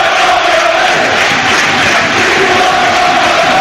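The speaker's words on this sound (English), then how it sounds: "the home crowd may be sensing their team need them. Turn up the volume as a result" The home crowd at Plymouth's football match against Southampton roars steadily and loudly, a dense wall of chanting and cheering that fills the stadium without a break.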